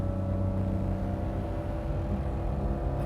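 A customer's car engine revving at a performance shop, a steady loud rumbling drone with layered harmonics holding high revs throughout, no voices.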